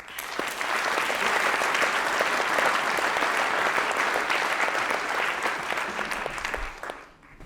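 Audience at the Durrell London Lecture on rewilding forests claps to welcome the lecturer, with loud, dense, sustained applause from a full room that fades out near the end.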